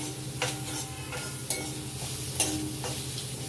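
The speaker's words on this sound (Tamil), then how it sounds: "அதனால் நல்லா வதக்கி போகும்" Ingredients for an eggplant kuzhambu sautéing in oil, a constant close sizzle under a low hum, punctuated by several brisk spatula scrapes and taps against the pan at irregular intervals.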